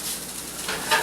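Food sautéing in a hot pan in a home kitchen, giving a steady, close hiss and sizzle throughout with a slight swell near the end.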